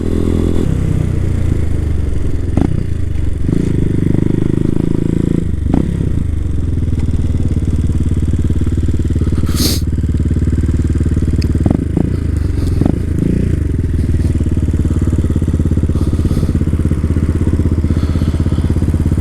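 A CSC TT250 or Hawk 250 motorcycle engine runs steadily and close for the whole stretch on a chilly trail ride, with occasional thumps, scrapes and clatter over the engine drone.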